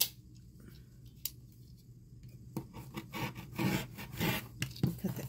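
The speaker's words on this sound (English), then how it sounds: "Cut the excess off." Scissors snipping excess fabric from small squares for reusable fabric paper towels, with a few isolated snips at first, then a denser run of close, crisp cuts and rustling cloth.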